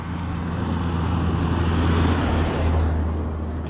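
A car towing a caravan on a mountain road, labouring in second gear: a steady, loud low engine drone with road rumble throughout and no talking.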